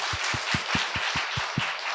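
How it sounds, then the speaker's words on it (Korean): Audience applause fills a talk show or book talk hall with a former news anchor, a dense, steady wash of many hands clapping close by with a regular underlying beat and no voices. "박수 주세요"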